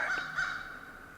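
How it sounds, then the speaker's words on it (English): A crow gives a couple of harsh caws from a tree at a distance, fairly faint, in an otherwise quiet northern Wisconsin cedar swamp. "the crow up in the tree over here."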